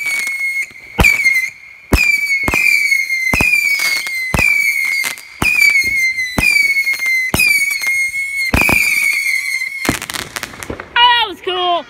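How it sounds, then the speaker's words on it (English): Saturn missile fireworks launch in rapid succession on a street, each shot a sharp pop followed by a rising whistle, about a dozen in a row with voices between. "Oh, we're doing huge Saturn missiles here."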